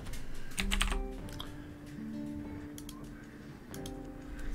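Typing on a computer keyboard to search the market in Albion Online, close rapid clicking in short bursts alongside soft game interface tones.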